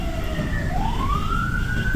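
An ambulance siren wails on a road as the vehicle is held up by a motorcyclist, its tone sweeping down and then rising steadily over the rumble of traffic, loud and close.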